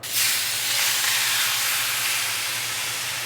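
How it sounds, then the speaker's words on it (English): Beef searing in a hot pan, a loud sudden hiss as the meat hits the metal, then a continuous roaring sizzle that holds steady, close and alone. "And you're gonna sear your meat."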